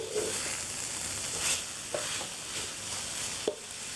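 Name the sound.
stirring grated coconut browning in a pan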